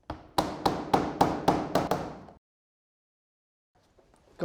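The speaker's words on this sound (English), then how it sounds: "So I fit these just with slate nails really." Slate nails hammered to fix a gutter board, seven sharp, evenly spaced close blows in quick succession, followed by silence and a faint shuffle.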